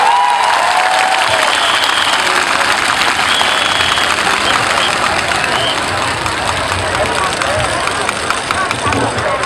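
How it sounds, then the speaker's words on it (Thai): Dense crowd applause fills an outdoor Thai political rally for a Bangkok police-general candidate, steady and loud throughout with babble and a faint engine hum underneath. "ขอเสียงปรบมือให้กับท่านครับท่านพงเทพเทพกาญจนาครับ"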